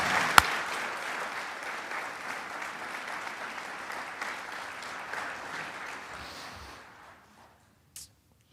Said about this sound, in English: Let's give them a round of applause one more time